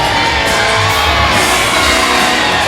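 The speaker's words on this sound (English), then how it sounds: "listen to that reception for the hardest man in Fife" A wrestling crowd in Whitehaven cheers for wrestler Andy Roberts, a loud continuous roar of shouts, whoops and yells filling the hall with no break.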